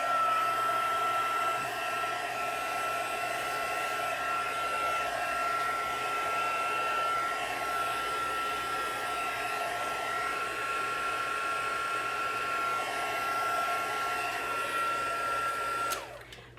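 A craft heat tool blows steadily at close range during card-making, giving a continuous whooshing fan roar with a faint whine. It runs unbroken until it cuts off near the end, and no one talks.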